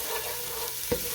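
Onions sauté in a pot for Italian wedding soup, a steady close sizzle with a single spoon stir knocking against the pot near the end, and no voices.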